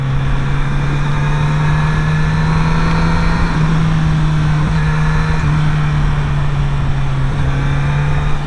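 A Kawasaki Z900RS retro motorcycle engine hums steadily at a constant pitch while riding, a low continuous drone with wind and road noise and no talk.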